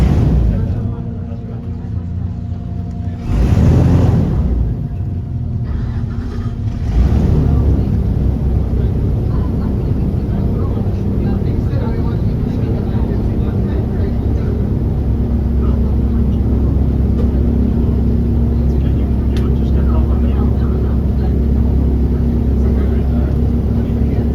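Engine of an Everglades tour boat throttling up, a loud, steady low roar that swells after a few seconds and then holds, with a brief burst of noise near the start and muffled voices in the background.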